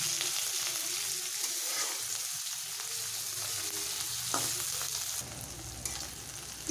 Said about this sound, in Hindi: कटे हुए 2 हरे मिर्च और ये अच्छी तरह इसको भून लेंगे।